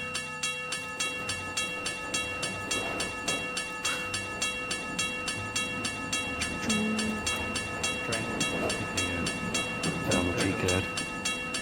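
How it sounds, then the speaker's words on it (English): Trains pulling in at a station in the game VRChat, a steady dense rumble with a regular clacking pulse and sustained tonal hum and whistle-like lines, loud and continuous without speech. "All the trains coming in."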